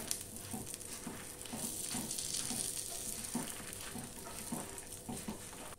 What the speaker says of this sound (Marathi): थोडा कढीपत्ता घालायचा आहे, तोही फ्राय करायचा आहे।